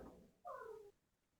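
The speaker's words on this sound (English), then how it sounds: "my cat is freaking out" A pet cat gives a single clear meow, soft and somewhat distant, rising briefly out of a quiet room before fading away.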